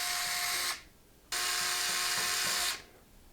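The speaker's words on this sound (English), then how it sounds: "There's 2 screws we need to remove." A small electric screwdriver whirs in two bursts, close and clear, removing screws from the top panel of a Cooler Master MasterBox 520 PC case.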